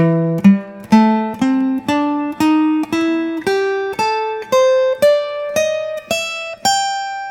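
Electric guitar plays minor blues scale licks in the A-shaped position, single picked notes climbing steadily upward, each note ringing clearly and evenly spaced, with no voices.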